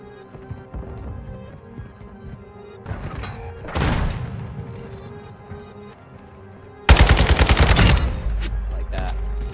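An AK rifle fitted with a sniper scope fires in Call of Duty multiplayer: scattered bursts, then a loud rapid string of shots, over continuous game background sound.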